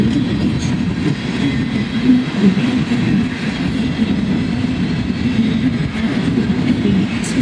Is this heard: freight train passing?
yes